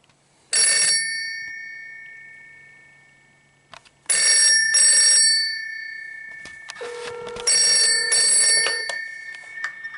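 A Telecom Australia 802 telephone rings on a ring-back test with loud, close, metallic bell bursts: a short ring, a pause, then several more ringing bursts with faint clatter between them, each fading slowly.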